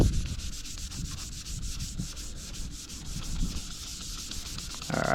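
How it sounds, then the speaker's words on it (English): Continuous scratchy rubbing of sandpaper feather sanding a Honda Civic's car paint, worked back and forth, close and steady in rhythm, with no voices. "some people might call it feather sanding"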